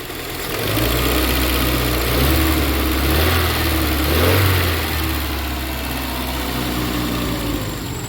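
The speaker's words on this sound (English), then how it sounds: "Let's give her a couple revs." A 1989 Chrysler LeBaron GTC turbo engine idling close by and revved twice, the deep drone swelling and falling back each time, steady and loud with no talk.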